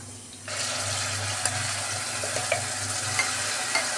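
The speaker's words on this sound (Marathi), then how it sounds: "तेल गरम झाल्यानंतर आपण त्यामध्ये वाटलेला कांदा टाकूया" Ground onion paste hits hot oil in a pan for Punjabi-style chole, setting off a steady, close sizzle and hiss after a brief quiet start, with a few light clinks of a spoon along the way.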